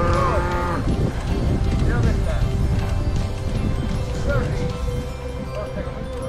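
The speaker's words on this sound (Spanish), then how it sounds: "Vaya cómo se ponen las vacas" Cows lowing loudly and repeatedly on a mountain pass in Asturias, several drawn-out moos overlapping across the whole stretch over steady outdoor background noise, with people talking nearby.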